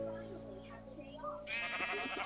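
Sheep bleating in Minecraft as the animals are sheared with shears, a short wavering bleat rising near the end over steady game music, with a person talking through it.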